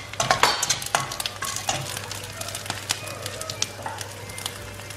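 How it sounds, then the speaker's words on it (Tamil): Fennel, cardamom, cinnamon and cloves crackle and sizzle in hot oil for a soya chunk curry, with dense popping bursts up close that settle into a steady frying hiss. "இந்த ஆயிலில் சோம்பு, ஒரு 4 ஏலக்காய், ஒரு கொஞ்சம் பட்டை, 2-3 கிராம்பு போட்டுக்கலாம்"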